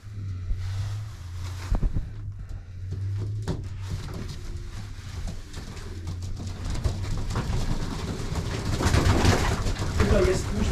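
Low, soft coos of racing pigeons repeat close by in a steady rhythm, with rustling and some talking mixed in, growing busier toward the end.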